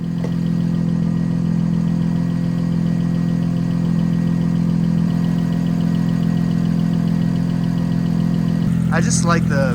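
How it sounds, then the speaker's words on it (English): A BMW E90 idles steadily after a cold start, a constant low engine drone filling the whole stretch with no change in pitch, and a brief voice breaks in near the end. "fire up the car, and then pull it out the garage, let it warm up for a little bit"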